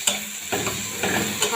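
Onion with ginger-garlic paste is stir-fried in a pan, a steady close sizzle broken by several quick stirring scrapes and spatula taps.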